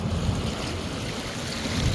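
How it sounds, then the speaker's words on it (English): Surf washing up a sandy beach as the tide comes in, a steady low rumbling wash of waves with wind buffeting the microphone throughout, no voices. "Oh, here comes the tide."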